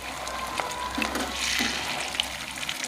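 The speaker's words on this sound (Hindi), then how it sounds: "नरम नरम और प्यार के साथ इसे फ्राई करेंगे कि हमारे रोल टूट ना जाएं।" Chicken bread rolls fry gently in hot oil, a soft continuous bubbling sizzle heard up close with faint splashy swells and no talking.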